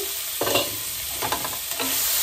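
Malabar spinach stem curry is stirred in a pan. A few scraping strokes and soft clatters sound over a constant bubbling sizzle, all close by with no speech.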